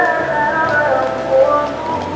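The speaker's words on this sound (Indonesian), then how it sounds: "Cuacanya hujan lagi." Rain falls steadily outdoors in an Indonesian setting, a dense, even patter with no talk over it.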